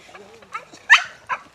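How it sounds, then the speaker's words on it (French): A small excited dog gives a few short yelps and yaps, close by, over a low background murmur of voices. "Ces petits jappements là, ça peut être de l'excitation"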